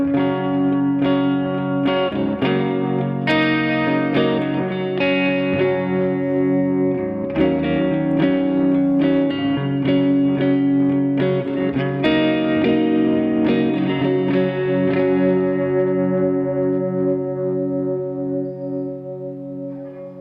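NUX Trident guitar multi-effects processor playing a sustained chorded guitar passage drenched in modulation, chorus and reverb with light distortion, loud and continuous, swelling and slowly fading toward the end.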